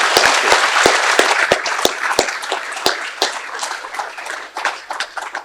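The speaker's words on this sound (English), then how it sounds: "Now it's time for a 16 inches applause, so we warm up the speakers" Audience applause at a banking regulation seminar, a dense burst of many clapping hands with sharp individual claps standing out, tapering off unevenly toward the end.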